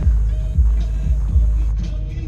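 Deep, throbbing bass booms from a car subwoofer and amplifier, a heavy low-end pulse with muffled music, loud and close.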